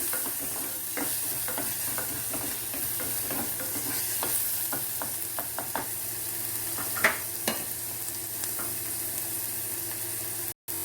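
Shallots and green chili fry in a pan, a steady sizzle under repeated scraping stir strokes from a utensil, close and continuous with a few sharper clinks.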